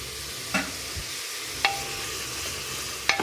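Carrots and beans being sautéed in a pan for veg biryani: a steady low sizzle with a few sharp clinks of a spatula against the pan, no voices.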